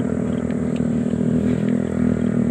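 Motorcycle engine rumbling steadily as it travels along a newly built access road toward Barangay Barra in Lucena City, a continuous low drone at close to moderate distance with no talking.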